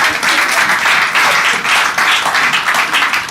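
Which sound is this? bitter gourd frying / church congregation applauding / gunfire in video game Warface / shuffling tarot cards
church congregation applauding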